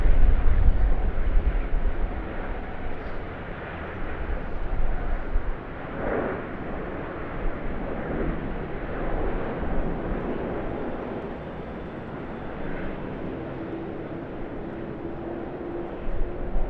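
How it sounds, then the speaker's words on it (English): A British Airways Boeing 787-9 lands at Sydney Airport, heard as a broad, distant jet roar that rumbles on steadily, a little louder at the start, with no voices. "In the background there, British Airways Boeing 787-9 just landed"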